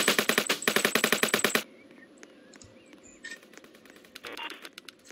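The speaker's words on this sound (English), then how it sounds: "Rain down gunshots." Rapid automatic gunfire in the Roblox game Jailbreak, a loud sharp burst of rhythmic shots that cuts off after a second and a half, followed by quieter scattered clicks and another faint flurry near the end.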